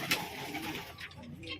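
Among a pigeon collection in Murshidabad, a pigeon gives a short, soft, low coo close by, with faint background noise and a hint of voices nearby.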